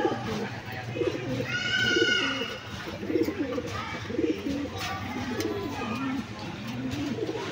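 Fancy pigeons coo in a loft, low throaty rolling calls repeating steadily and close, with a few chirps above, while someone talks over them.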